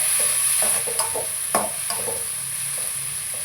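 Chopped tomato hits a hot frying pan for a South Indian bottle gourd kootu, giving a soft sizzle under a few quick scraping stirs and clinks of a spoon against the pan.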